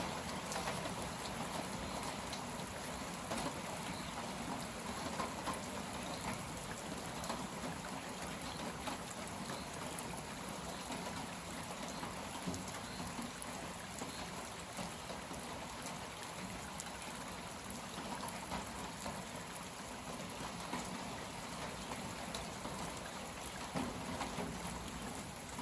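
Heavy rain from a cold front at the tail end of a gale, a dense, continuous hiss of downpour on surfaces that stays steady and even throughout, with no voices.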